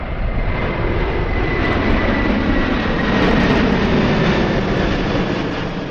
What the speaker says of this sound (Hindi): विमान ने उड़ान भरी।